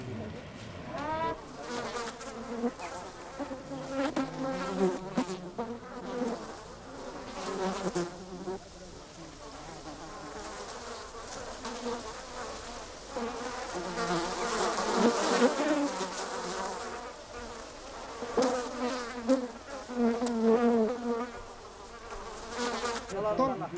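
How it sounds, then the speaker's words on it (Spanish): Swarm of thousands of angry bees during a traditional Himalayan honey hunt in Nepal, a loud, dense buzzing that swells and fades continuously, with wings close by, over a busy outdoor background. "los enjambres de miles de abejas enfurecidas"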